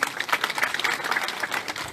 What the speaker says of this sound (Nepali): तालीले सम्मान गर्नु।